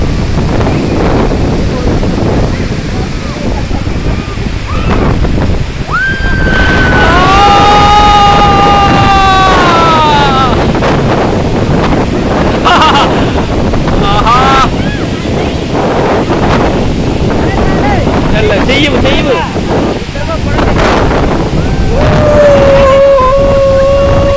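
Strong wind roars and buffets the microphone at a waterfall, a loud continuous rush under people talking and calling out, with a few high voices rising over the noise.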